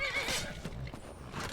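A horse neighs and its hooves clip-clop in the fantasy video game Skyrim, a close whinny followed by shuffling hoof sounds over a low game ambience.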